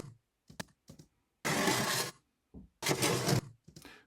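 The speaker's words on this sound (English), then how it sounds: "so I used a fire grate, and that's just the kind of where the ash is kept, and you just slide it out of the bottom of the fire grate" A metal ash tray slides out from the bottom of a fire grate in two loud, broad scraping bursts, each about half a second long, with a few short clanks and knocks in between and after.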